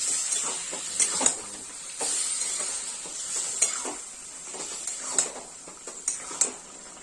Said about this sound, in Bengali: দিয়ে ভালো করে মশলার সাথে মেশাতে হবে।